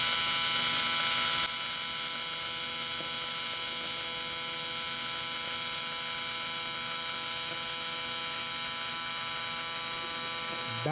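A TIG welder welding aluminum gives a steady, loud electrical buzz and hum that runs unbroken throughout, slightly harsher at the very start.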